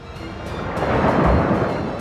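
A violent storm at sea, taken from aboard a cruise ship, fills the air with a deep, continuous rumbling roar that swells louder midway, with faint crackling bursts on top.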